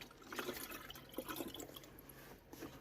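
Water poured from a small watering can into soil before sowing pepper seeds, giving irregular splashing and trickling bursts at close range with no speech over it.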